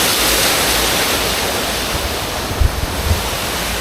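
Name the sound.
waterfall at the entrance of a park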